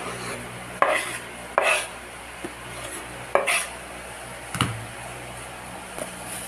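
Sotanghon noodles and potatoes are tossed and mixed together in a pan, giving several soft scraping and clacking strokes at irregular intervals over a low background hum, with no talking.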